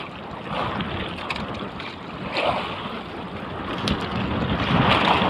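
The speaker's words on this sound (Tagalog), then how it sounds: "Mahangin na dito." Strong wind roars steadily across open water on the Pacific Ocean, with the wash of waves and a faint boat hum underneath, growing slightly louder toward the end.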